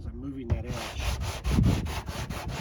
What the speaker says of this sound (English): So as I keep sanding, what I'm doing is I'm moving that edge